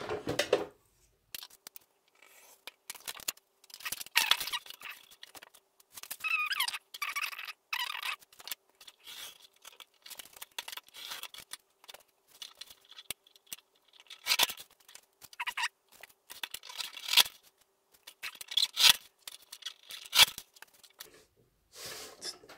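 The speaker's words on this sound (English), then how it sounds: "so this one needs a little cutting just because it doesn't fit" Scissors cutting paper while making a spiral notebook: quiet, intermittent snips and rustles in irregular bursts across the clip, some clustered quickly and others spaced apart, with no talking.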